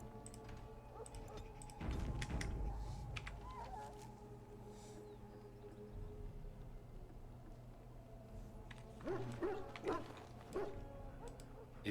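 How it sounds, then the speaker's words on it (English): Hounds kept by the Ash Warriors in a video game whimper and give a few barks over a steady ambient game soundscape, with louder bursts around two seconds and again near the end. "Please do not disturb our hounds."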